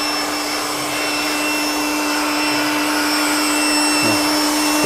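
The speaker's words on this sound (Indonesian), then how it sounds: "Untuk yang kompresor sama coilnya kita keringkan juga dengan dryer." A dryer blows air steadily and loudly up close to dry an air conditioner's compressor and coil during maintenance of a panel AC unit, a continuous whining whoosh with a constant tone and no talk.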